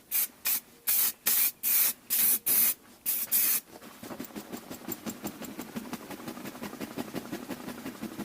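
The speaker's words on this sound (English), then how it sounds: "I'm going to hit it with some high build primer, try and get it mostly in the metal area" A spray can of high build primer hisses in about eight short, loud bursts onto rusty Honda Civic window trim, then gives way to a quieter rhythmic rubbing or hum.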